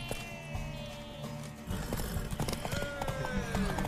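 Horse hooves clip-clop at a trot in the video game The Witcher 3: Wild Hunt, mixed with a neigh and busy game effects and faint voices.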